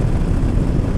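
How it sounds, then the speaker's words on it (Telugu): A motorcycle engine drones loud and steady during a highway ride, a dense continuous rumble mixed with wind noise, close and unbroken, with no voices. "మన బైక్ సౌండ్ కూడా వినిపించాలి"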